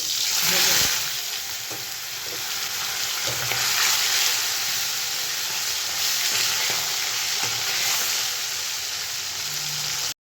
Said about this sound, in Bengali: কই মাছটা একটু হালকা করেই ভেজে নেব